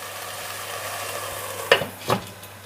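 Amaranth leaf curry stirred in a pan over a medium-low flame: a soft steady simmer, then two brief scraping stirs close by near the end, with no talk.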